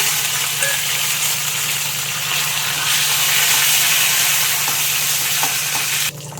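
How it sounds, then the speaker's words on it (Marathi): Mustard seeds, cumin, curry leaves and chillies splutter and crackle in hot oil for a tempering, a loud, dense, close sizzle that holds steady before dropping off sharply at the end. "मोहरी टाकायची, तडतडून द्यायची."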